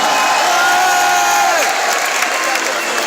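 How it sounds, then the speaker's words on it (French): A large crowd at Paris Games Week cheering and applauding the Vitality esports team, a dense, loud wash of clapping and shouts with a voice over the noise early on. "Applaudissements, les Vitality."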